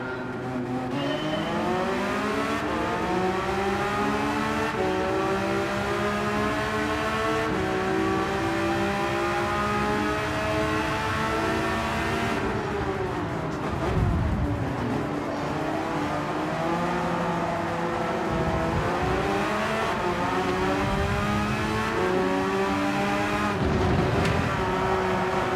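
An Audi race car's engine in Gran Turismo 7 revs up and down through repeated gear changes, rising whines dropping at each shift, loud and close, with occasional brief lifts and tire noise, no talk.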